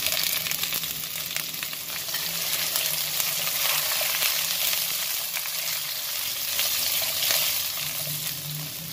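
Chili hits a hot wok with onion, ginger and radish for Mongolian beef, giving a steady, loud sizzle and crackle, with occasional scraping of a spatula as it is stir-fried.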